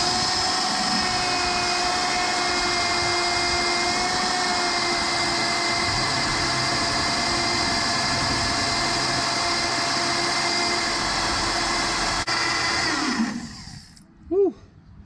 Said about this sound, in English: But let's get this hole drilled.